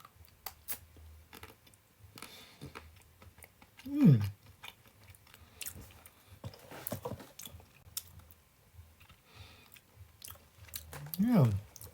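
Someone chews dark chocolate pink gin and tonic flavoured alcohol chocolates, with soft crunching and wet chewing close to the mic, broken up by two short vocal sounds.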